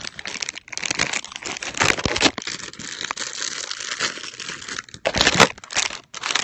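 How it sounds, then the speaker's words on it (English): Comic book packaging is ripped open with loud, close crinkling and tearing that runs almost continuously, rising to a sharper rip burst near the end. "I'm going to see if I can rip one of these open."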